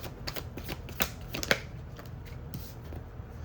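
Tarot cards shuffled and drawn by hand, a run of soft papery riffles and crisp clicks up close, with a few sharper snaps partway through and no talking.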